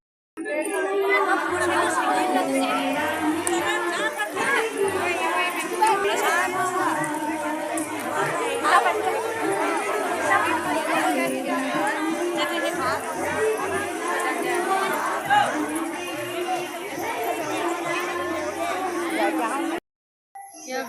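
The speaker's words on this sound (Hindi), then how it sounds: "क्या भीड़ लगी है" Crowd chatter at a large temple bhandara at Pakhan Devi temple in Matiyal: a thick, continuous babble of many voices with a low rumble beneath, steady and close for about twenty seconds before stopping abruptly.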